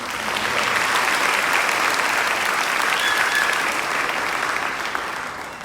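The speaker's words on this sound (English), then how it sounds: "Please give them a round of applause." Audience at an annual Beautillion ceremony applauds the judges in a steady, full round of clapping that carries on for several seconds at even strength before easing slightly near the end.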